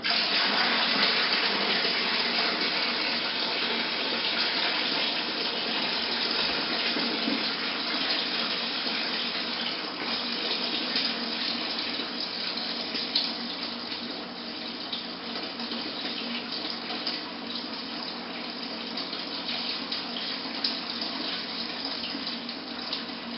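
Wine-making liquid from a kit being poured into a container, a steady continuous gush of pouring water lasting throughout, close and fairly loud with no talking.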